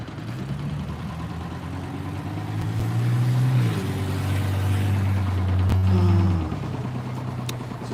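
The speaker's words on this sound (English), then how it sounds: "Just this loud tan car at the front of the traffic." A loud tan car sitting at the front of traffic, its engine droning low and rumbling louder through the middle as it revs, then settling back to idle.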